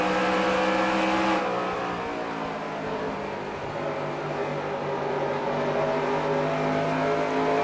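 A pack of stock car engines droning together in NASCAR Racing 2003 at Rockingham, a steady loud harmonic roar that shifts pitch as cars run side by side, with no talk over it.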